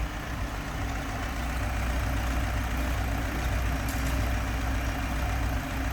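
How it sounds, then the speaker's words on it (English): A 1978 Fiat 124 Spider with a 1.8-liter (1753 cc) engine idles steadily, a smooth, even low hum that holds constant with no revving and no talk. "Good sounding, smooth running engine"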